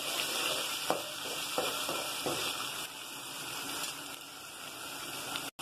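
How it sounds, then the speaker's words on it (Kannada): Garlic paste sizzling and frying in a pan, a steady broadband hiss with a few soft stirring scrapes, continuous and fairly close with no talking. "ಈ ಬೆಳ್ಳಿ ಪೇಸ್ಟ್ ನು ಹಾಕೋತೀನಿ ರೀ ಅದಕ್ಕೆ ಸ್ವಲ್ಪ ಸ್ವಲ್ಪ ಫ್ರೈ ಮಾಡಿ"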